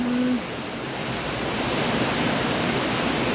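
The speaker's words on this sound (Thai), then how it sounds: "ฝนตกแบบนี้ทำงานได้นะฮะ" Steady windless rain falling outdoors at a Thai home, a dense even hiss of drops that stays loud and unbroken from start to finish, with a brief tone at the very beginning.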